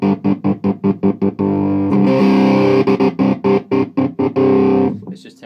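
Distorted electric guitar on a pink Stratocaster, loud and alone, played through a momentary kill switch that chops the notes into rapid on-off stutters, then rings out sustained before the choppy cutting returns.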